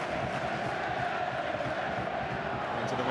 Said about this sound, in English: You can hear the crowd getting behind Charlton.